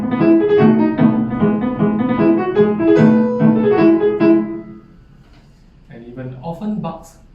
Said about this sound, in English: Some of the famous galop tunes are Rossini's Willem Tell Overture Finale,